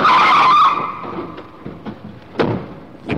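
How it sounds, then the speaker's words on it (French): Car in a radio drama arriving with prisoners: a loud engine and tyre skid that cuts off, followed by scattered thumps and door-like knocks, close and without talk. "Monsieur Théo, voilà la voiture avec les prisonniers."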